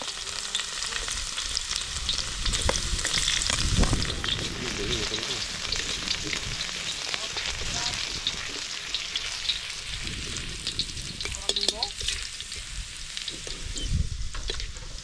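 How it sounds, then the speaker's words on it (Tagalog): Garlic and onion sautéing in a pan, a steady close frying crackle with intermittent stirring scrapes and clatter, no speech heard. "Mga karabas, gisa na tayo. Bawang,"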